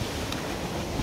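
Steady wind near Okhreni waterfall at Sundarijal roars as continuous broadband rushing, loud and unbroken for the whole second, with no voices.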